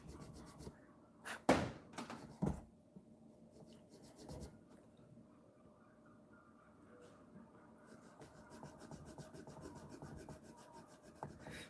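A 30-year-old Squier guitar body is being sanded by hand with medium-grade abrasive, a faint, close, rhythmic rubbing and scraping with a few louder knocks early on.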